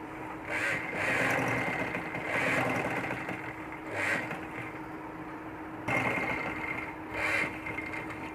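Sewing machine running continuously while stitching the sides of a child's umbrella-cut baby frock, a steady close hum with a few brief rises and higher rattling accents, no talking.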